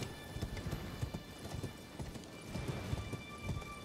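Horse hooves clip-clop at a steady trotting rhythm while riding through the Elden Ring Shadow of the Erdtree game world, moderately loud and continuous with a faint hiss of rain or ambient background beneath.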